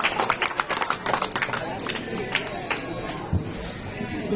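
An audience at a pigeon-flying tournament prize distribution claps in a burst of applause under crowd chatter. Clapping is strongest at the start and thins out.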